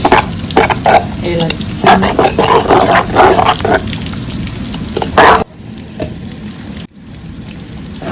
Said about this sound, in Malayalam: അരപ്പിട്ട് കൊടുത്ത് നന്നായിട്ടൊന്ന് ഇളക്കാം